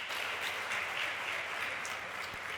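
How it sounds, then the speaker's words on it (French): Audience applause after a PowerPoint presentation session, steady and dense throughout, a continuous wash of clapping from a crowd with no voices over it. "Et continuez à applaudir pour tous les grains qui sont passés aujourd'hui pour la présentation PowerPoint."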